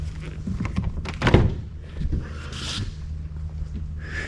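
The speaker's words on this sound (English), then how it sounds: "may I open a door up?" A door on a 1971 Mercedes-Benz 280SE is opened with a solid, close thunk and a short mechanical clunk and rattle, followed by quieter handling sounds and a low steady hum.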